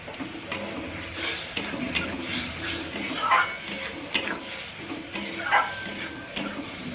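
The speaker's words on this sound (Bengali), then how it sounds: "মশলাটা আমি ভালো করে কষিয়ে নেব।" Masala of turmeric, chili and cumin powder frying in oil while a utensil scrapes and stirs the pan, with repeated sharp metallic clinks over a low sizzle, close and fairly quiet.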